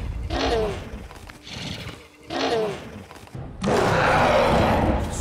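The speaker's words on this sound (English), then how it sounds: "the sound effects used for these otherworldly animals are recycled from another groundbreaking creature feature, Jurassic Park" Creature calls for Avatar's alien animals, the panther-like Thanator and horse-like beasts of Pandora, reused from Jurassic Park: a series of growling, roaring bellows in separate bursts, ending in a long, loud, rough roar.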